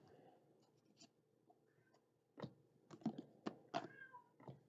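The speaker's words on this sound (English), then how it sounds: "Oh, somebody's aggravating the cat." A cat being bothered lets out a few short complaining meows and yowls over scattered clicks and tapping, heard faintly in a quiet room with low background noise.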